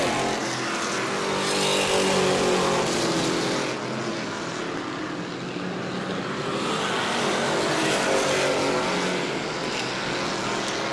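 Super Stock race cars roar around New Smyrna Speedway on the final lap of the LKQ Super Stock 50, a loud, steady wash of engine noise from a passing pack that swells and fades as the cars sweep by.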